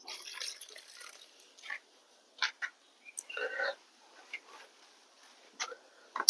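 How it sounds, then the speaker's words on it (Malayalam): Water poured into a potted plant drains out in scattered, faint trickles and drips, quiet and intermittent with short splashy bursts separated by near-silence. "ഞാൻ ഒഴിച്ച് കാണിച്ചു തരാം വെള്ളം ഒഴിക്കുന്ന വെള്ളം ഉടനെ തന്നെ വാർന്നു പോകും"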